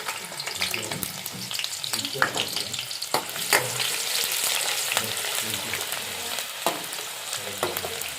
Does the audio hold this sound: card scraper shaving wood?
no